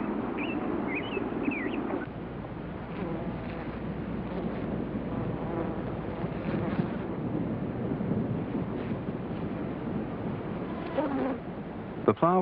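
A bumblebee buzzing steadily and close, a continuous insect drone with some wavering pitch and a few faint bird chirps in the background, lasting the whole stretch without talk.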